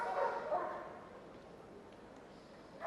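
A police dog barks and yelps during an attack display at Crufts, heard at a distance over arena crowd noise and ambient hubbub.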